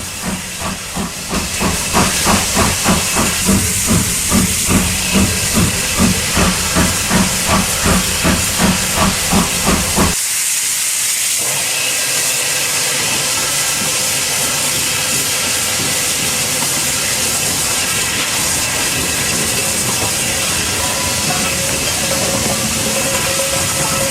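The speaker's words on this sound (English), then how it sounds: "Number 5 shunts up and down the wooden jetties" Industrial steam locomotive No. 5 shunts along wooden jetties at Falmouth docks, with loud, steady rhythmic exhaust chuffs that give way to a sustained, continuous roar of hissing steam.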